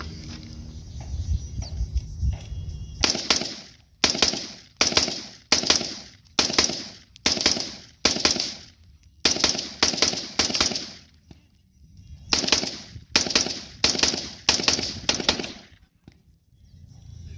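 Outdoor firearm shooting, a long series of loud, sharp close shots in irregular clusters of two to four with short pauses between, ending in quiet.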